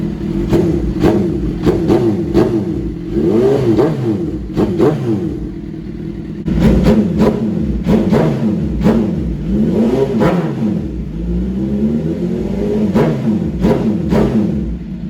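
A warmed-up Suzuki Gixxer motorcycle is revved near a garage, throttle blipped in repeated sharp bursts over a rumbling idle, loud and close, with no voices.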